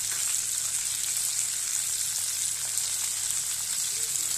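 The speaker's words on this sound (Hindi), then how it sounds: "अब हम इस पे ये प्याज को फ्राई करेंगे।" Onions, tomatoes and green chillies fry in hot oil in a pan, giving a steady, moderately loud sizzling hiss with no talking.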